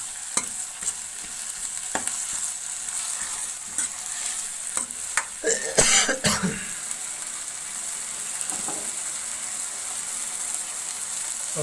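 Green chillies frying in a pan for a garlic chutney, a steady soft sizzle with scattered stirring scrapes and a brief louder clatter midway, heard alone without talk.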